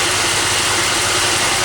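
Plymouth 318 V8 engine idling steadily after carburetor repair, a close, even rumble with no talk over it.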